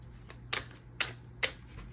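Tarot cards being shuffled and drawn during a rune and tarot reading: three crisp, close snaps about half a second apart over a faint background hum, with no talking.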